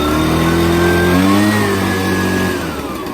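Gas engine of an ECHO PB-755SH backpack leaf blower running loud and close at high throttle, a steady revving drone that wavers in pitch and eases slightly near the end, with no talking.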